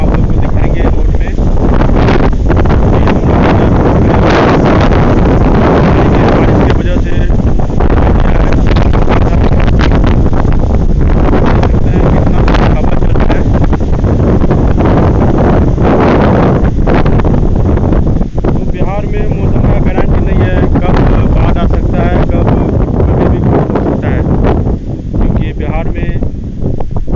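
Strong wind and rain sweep through a village, roaring steadily and loudly for the whole stretch with constant buffeting against the microphone.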